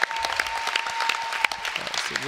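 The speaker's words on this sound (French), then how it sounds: "le public est content, applaudit." Steady applause from an audience at a French Elite championship match, a dense patter of clapping hands filling the whole moment at moderate loudness.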